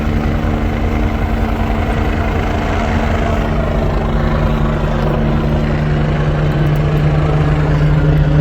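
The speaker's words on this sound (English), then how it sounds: "Here comes the helicopter." A steady, loud helicopter rotor and engine drone holds constant with a low hum as it arrives at a bad highway wreck, no talking over it.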